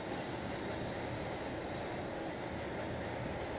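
Steady train rumble from a cutscene in the N64 game Hybrid Heaven, a dense continuous rolling roar of railcars running without a break, loud and close, with no voices.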